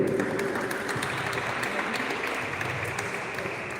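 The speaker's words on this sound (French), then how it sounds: "Donc on peut les applaudir." Steady applause from a crowd at the Biarritz Open, continuous clapping that holds at an even level for a few seconds.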